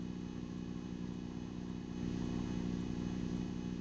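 A long, low, chopped-roof truck build in Scrap Mechanic runs its engine in a low gear, giving a loud, steady mid-pitched drone with a harmonic hum that swells slightly halfway through, no voices.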